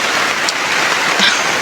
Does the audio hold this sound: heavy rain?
yes